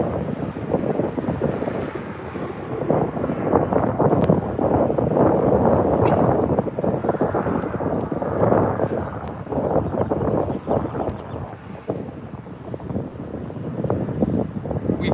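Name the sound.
Southwest 737-700 taxiing at LAX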